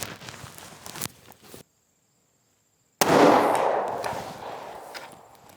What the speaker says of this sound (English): Let's see where a follow-up shot goes.